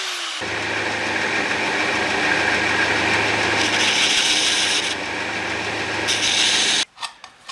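A small power tool cuts a tin hinge pin for a homemade tin-can candle lantern, a steady close grinding rasp running for about six seconds and then stopping abruptly, followed by a few faint clicks.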